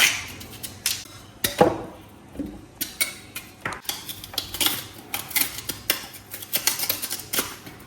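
A knife scraping the peel off cassava, heard as a steady run of quick, dry scratchy strokes and light clicks, close by and fairly quiet, with no talking.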